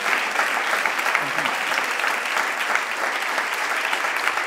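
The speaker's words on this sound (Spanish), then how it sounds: "¿Puede expresar agradecimiento en un aplauso al Señor así que se oiga esta tarde?" A church congregation applauding during a service, a broad continuous wash of many hands clapping with faint voices mixed into the crowd noise throughout.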